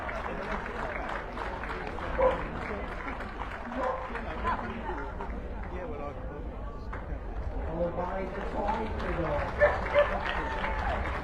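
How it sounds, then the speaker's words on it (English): Spectators at a dog show applaud after the standard poodle's turn in the Utility Group, a moderate ongoing patter of clapping mixed with crowd chatter and talk. "Good to get a nice round of applause here this afternoon."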